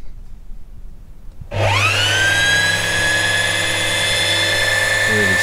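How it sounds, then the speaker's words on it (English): A Necchi Q132a heavy-duty sewing machine winds a bobbin, starting after a quiet moment with a sudden motor whir that rises to a steady, fast, even high-pitched hum and holds loud and close to the end. "really solid, fast wind, even feed, bouncing up and down, giving you a really even filling on your bobbin"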